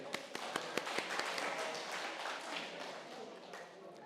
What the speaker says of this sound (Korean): 같이 얘기하신 분들께 박수 쳐주세요.